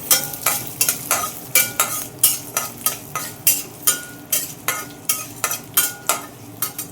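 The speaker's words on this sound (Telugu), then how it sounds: "చూసారా చక్కగా వేగిపోతుంది" Peanuts and dried red chilli pieces with seeds sputter and crackle in hot oil, with steady rhythmic spoon scrapes against the pan, close and fairly loud, no talk.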